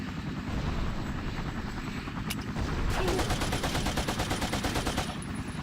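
An American helicopter in Battlefield Vietnam, a loud continuous rotor thrum with pulsing beats throughout, joined midway by a long rattling burst of automatic gunfire.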